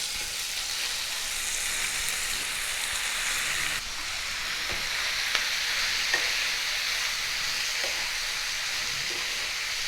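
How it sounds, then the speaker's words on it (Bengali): Seasoned cabbage sizzles steadily in hot white oil in a pan with tempering spices for a Bengali paturi, a continuous fry broken by occasional soft stirring scrapes, with no talking. "ভালো করে মেখে রাখা বাঁধাকপিটাও দিয়ে দিচ্ছি"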